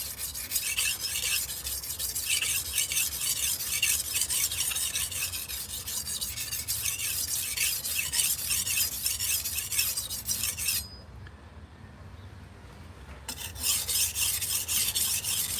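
A kitchen knife being sharpened on a 400 grit whetstone, a continuous close scraping rasp of repeated strokes that breaks off briefly before resuming, with no talking.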